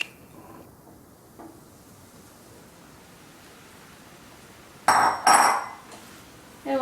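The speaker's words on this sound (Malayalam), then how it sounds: "ഞാൻ ഇതിലേക്ക് നമ്മുടെ ഇഡ്ഡലി പീസസ് എടുത്ത് ഇടുവാണ്" Idli pieces tumble into a pan of cooked masala, two or three quick clattering bursts against the pan after a long quiet stretch, with a last small clink at the end.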